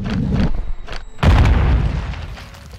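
A deep bomb explosion in the video game Modern Warfare II booms loud and close after a few lighter thumps, then rumbles and slowly fades.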